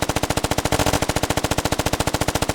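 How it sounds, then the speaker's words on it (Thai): Rapid automatic gunfire in the military shooter Squad, a loud, continuous stream of evenly spaced shots, about a dozen per second, heard close and alone for under three seconds. "โอ้ยิงกันรัวๆ"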